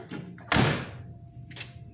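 A 1980 Corvette door, shimmed without its seals and fitting too tight, is shut with a single solid thud midway, with lighter knocks and rustles before and after.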